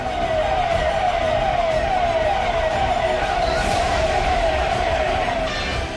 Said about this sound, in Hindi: पुलिस की गाड़ी का सायरन मातमी सन्नाटे को चीर रहा है।